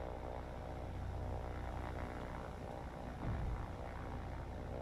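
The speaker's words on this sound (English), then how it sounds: "we have a torpedo plane out here" A WWII-era torpedo plane in War on the Sea drones overhead with a steady, moderately faint propeller-engine hum, swelling slightly near the end, with no talk.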